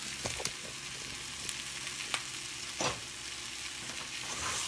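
Orange peppers, red and white onion, grated garlic and sweet potato sizzling in a pan, a steady close hiss of frying with a few clinks and scrapes from stirring, no speech.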